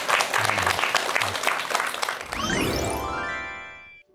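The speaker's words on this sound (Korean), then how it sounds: "여러분 큰 박수 부탁드립니다." Audience applause at a Korean lecture event welcoming a doctor speaker, a dense crowd clapping steadily and fairly loud, then giving way to a bright chime-like sting that rings out and fades.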